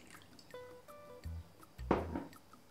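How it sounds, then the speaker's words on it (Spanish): Water being poured into bread dough ingredients for Arabic flatbread, including sunflower oil, with a few close drips and splashes ending in a louder wet squish. "Y vamos incorporando el agua."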